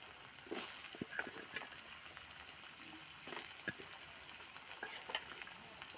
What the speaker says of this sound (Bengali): তেলটা হয়ে গেছে, এবার আমি সবজিগুলো এক এক করে দিয়ে দেব। এই যে দিয়ে দিলাম আলু